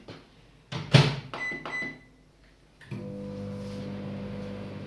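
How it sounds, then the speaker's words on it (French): Kitchen microwave oven heating something for one minute while making a chocolate and pear mousse: clunks of the door and buttons, then a steady humming drone starts and continues. "vous allez avoir le bruit du micro-ondes dans les oreilles"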